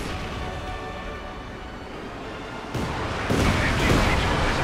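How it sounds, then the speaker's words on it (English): Rocket artillery barrage in the Company of Heroes 2 real-time strategy game: a dense, rumbling wash of explosions that swells and grows louder partway through, with overlapping booms and no clear gaps. "And shock troopers caught in a storm of rockets."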